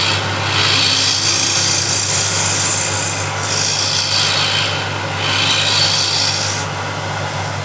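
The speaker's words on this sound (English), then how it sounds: "using scraper to dish it out a little bit." A hand scraper rasps across wood to dish out a shallow hollow, in three long, loud strokes with a steady low hum underneath.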